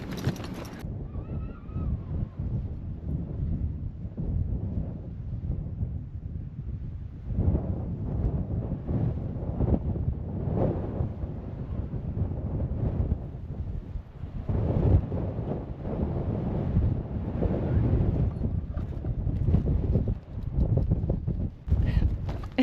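Gusts of cold wind buffet the microphone outdoors on a hike in Sweden, producing heavy low rumbling and thumping that rises and falls in long surges, loud and close throughout.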